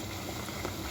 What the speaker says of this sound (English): This is how you make it bubbling, bubbling, bubbling.